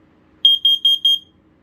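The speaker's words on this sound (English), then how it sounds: "Look at that piezo. Yeah, that thing, yeah, this thing is loud." A First Alert PC1210 photoelectric smoke alarm's piezo sounds four loud, shrill, evenly spaced beeps in quick succession, then stops.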